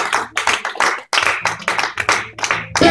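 A church congregation claps in bursts during a sermon, loud rhythmic hand claps close by with brief pauses between rounds.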